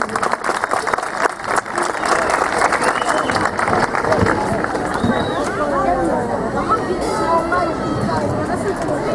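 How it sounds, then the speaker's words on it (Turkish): An audience at a community dinner event in Kırklareli applauds the governor, a continuous wash of clapping mixed with crowd chatter and murmuring voices throughout. "Sayın Valimize de bir kuvvetli alkış olsun."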